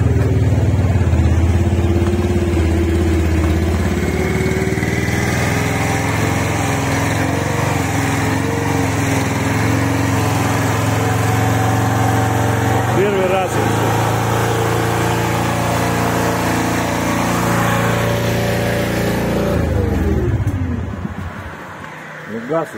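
A homemade T500 loader's small engine drones loudly and steadily up close, its pitch rising and dropping as it revs on its own, then winding down near the end while voices talk over it.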